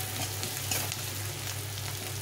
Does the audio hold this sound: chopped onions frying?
yes